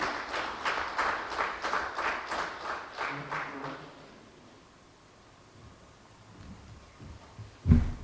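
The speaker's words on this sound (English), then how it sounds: "Can I have a round of applause as I welcome him?" A conference audience claps to welcome a moderator: a burst of applause with distinct clap pulses that fades out after about four seconds, followed by quiet room tone and a thump near the end.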